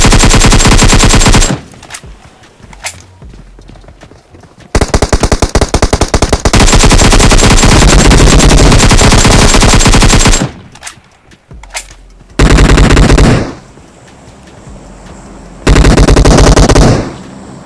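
Automatic weapon fire from PUBG Mobile gameplay rips out in several long, loud bursts with short pauses between them, nearly continuous during the middle stretch.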